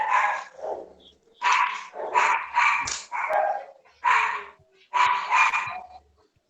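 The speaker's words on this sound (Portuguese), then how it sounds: "Eita, tem um cachorrinho latindo aí." A small dog barks in sharp, repeated bursts, about seven yaps in uneven clusters, clear and fairly close with quiet gaps between.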